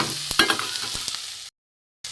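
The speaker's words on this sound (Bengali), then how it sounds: "আলুটা এর সাথে ভেজে নেবো।" Potatoes, onion, garlic and tomato frying together in a pan, a steady close sizzle with a few scrapes of stirring, cutting off abruptly into a short silence before the sizzle resumes.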